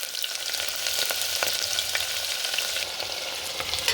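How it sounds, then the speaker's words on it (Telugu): Onion frying in oil with spices for vegetable kurma, a steady close sizzle with dense crackling and occasional sharper pops, fairly loud and uninterrupted, no talking. "ఇది కొంచెం బ్రౌనిష్గా వచ్చే వరకు వేయించుకోవాలి."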